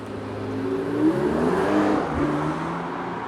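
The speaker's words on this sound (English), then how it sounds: "there's a Porsche 918 just leaving" A Porsche 918 supercar engine revs and accelerates in London, a steady growling roar with rising harmonic tones that swells and fades as the car pulls away nearby.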